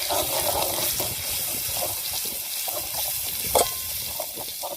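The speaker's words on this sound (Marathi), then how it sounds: "हळद, आलं लसूण पेस्ट, आलं लसूण पेस्ट हे मस्त तळून घेऊ मित्रांनो मसाल्याचा." Turmeric and ginger-garlic paste frying in hot oil, a steady bright sizzle with occasional stirring scrapes and one brief sharp pop, no voices.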